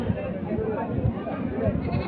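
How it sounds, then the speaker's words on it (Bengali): A mother goat bleats at a busy livestock market, a close, continuous nasal cry over crowd chatter and voices. "এটা হচ্ছে মা ছাগল"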